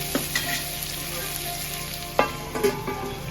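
Green chillies fry in hot oil with a steady sizzle and crackle, sharp pops and spatters breaking through now and then, close up with no talking.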